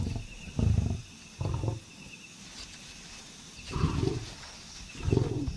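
Male lions at a kill in the wild: several deep, rumbling growls and grunts in separate bursts, close and moderately loud, with quiet outdoor ambience between them.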